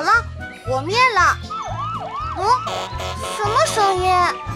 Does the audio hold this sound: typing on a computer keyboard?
no